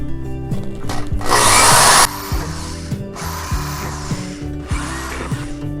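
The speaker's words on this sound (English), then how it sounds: "take your drill and go ahead and start some pilot holes for your screws" A power drill whirs loudly and repeatedly, drilling pilot holes for screws in wood, with bursts of high grinding and motor pitch rising and falling between pulses, no talking.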